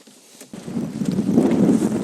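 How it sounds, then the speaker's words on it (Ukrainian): Strong wind buffeting the microphone beside a Skoda Octavia A5, a low roaring rumble that surges in after a brief quiet start and stays loud and steady. "Так, який сильний вітер"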